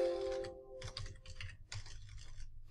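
Bursts of typing on a computer keyboard at a Linux terminal while editing an auditd configuration file, quick clustered keystrokes in short runs with brief pauses, close and clear, no talk.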